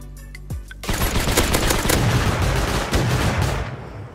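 Heavy gunfire erupts in the survival video game Rust, a dense, loud, close barrage of rapid shots lasting several seconds after a brief quieter lead-in, with no talking over it.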